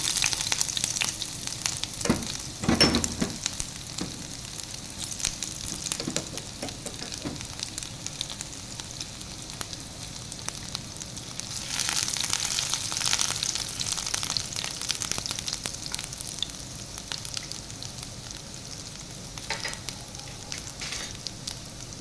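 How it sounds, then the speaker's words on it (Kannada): Chopped ginger fries in hot oil in a pan, giving a soft, continuous sizzle with occasional crackles and stirring bursts, fairly quiet and steady with no voices. "ನಾವು ಹೆಚ್ಚಿಟ್ಕೊಂಡಂಥ ಶುಂಠಿಯನ್ನು ಹಾಕ್ಕೊಳ್ಳೋಣ."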